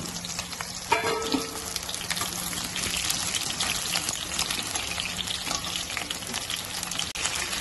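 Pointed gourd pieces dropped into hot oil in a pan for a paneer-potato dish, crackling in a loud, dense, continuous sizzle with a brief clatter near the start.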